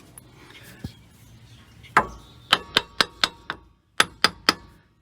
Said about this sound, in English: Just going to gently pry the caliper off.